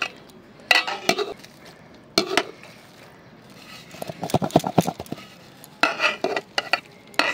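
Chicken biryani is dug out of a cooking pot with clattering metal spoon and pot scrapes coming in separate bursts, including a quick run of rhythmic taps, close up between quieter pauses.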